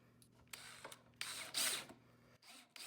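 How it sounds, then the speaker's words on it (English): A power drill bores countersinks into wood while a workbench is being built, giving short bursts of whirring and grinding with a louder stretch near the middle, over a low steady hum. "Now we're drilling our countersinks, which helps prevent the wood from splitting."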